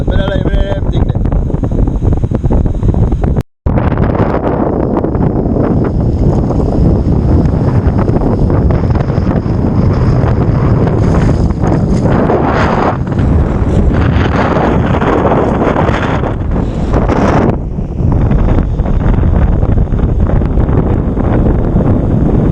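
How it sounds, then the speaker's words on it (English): Strong wind buffets the microphone on a beach in Jamaica a week after a hurricane passed, a steady loud rumbling roar running nearly the whole time with one brief dropout, while someone talks over it. "It's kind of windy today."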